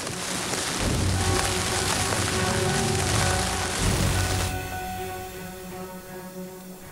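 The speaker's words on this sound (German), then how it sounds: "Es ist der zweite Tag und die zweite Nacht mit heftigem Sturm." Heavy rain pounding down during a multi-day storm in Alaska, a loud dense hiss that eases after a few seconds, leaving a softer patter.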